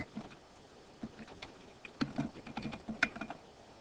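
Computer keyboard keys tapped in a quick, irregular burst of clicks, close and fairly quiet, with brief pauses between clusters of keystrokes and no talking.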